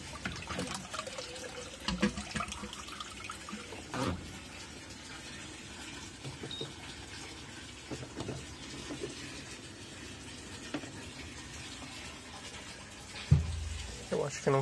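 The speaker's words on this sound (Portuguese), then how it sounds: "vou colocar drenar a água aqui na Twin Tub" Water drains steadily from an Electrolux 17 kg LAI17 twin tub washing machine, a continuous rushing wash of liquid with occasional louder gurgles and splashes, close by, with a few brief background voices.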